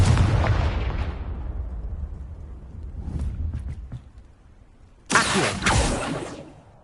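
Confringo blasting spell exploding in Hogwarts Legacy: a loud boom with a long rumbling decay, a few faint crackles, then a second sharp, bright blast near the end.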